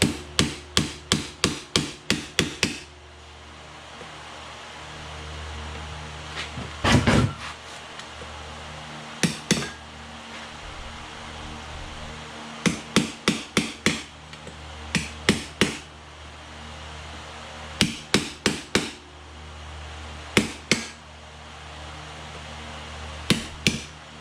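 Sharp metal hammer blows ring out in quick bursts of four to six strikes, with pauses between, as someone works to knock loose a brake drum on a John Deere 322 garden tractor, loud and close.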